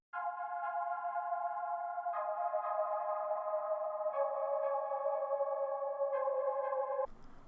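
Synth pad in an FL Studio trap beat, sustained layered tones that move through four chords with a change about every two seconds, played clean and alone before cutting off abruptly.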